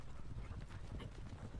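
Horse-drawn artillery moving in a Napoleonic-era strategy game, a faint continuous patter of hooves and rolling clatter with no clear gaps, distant and quiet.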